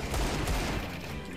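Gunfire in the video game CS:GO, a quick pair of sharp, fairly loud shots fired close together.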